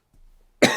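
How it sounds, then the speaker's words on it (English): A single sharp, close cough from a podcast host bursts out suddenly after a faint breath, loud and raspy against an otherwise quiet room. "I just had a little bit of a coughing fit"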